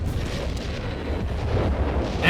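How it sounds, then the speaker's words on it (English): A continuous artillery barrage rumbles across a Company of Heroes 3 World War II battlefield between Wehrmacht and UK forces: a dense, steady low roar with no distinct single blasts, swelling slightly toward the end and free of talk. "we got a barrage around here, I guess"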